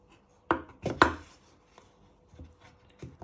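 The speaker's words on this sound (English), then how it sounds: "Then you chop it in half again." A knife chops a potato on a board: a few sharp, distinct thunks in quick succession, then quieter scattered taps, close and clear.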